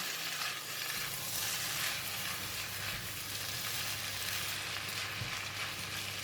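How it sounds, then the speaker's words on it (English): Mee goreng with tofu, spring onions and parsley stir-frying in a hot pan, a steady loud sizzle with soft scraping from the stirring throughout. "Once we put in all these ingredients, just give it a couple of stir, then we are done."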